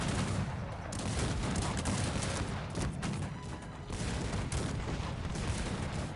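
Cannons and gunfire roar almost continuously in the video game Cossacks 3, with dense overlapping blasts, loud and close, rising and dipping slightly but never pausing.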